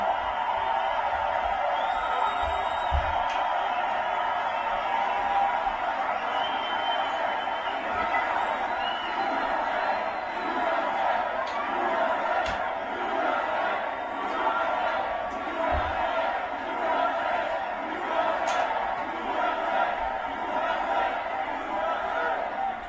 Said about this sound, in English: Boy, this crowd has a lot of enthusiasm.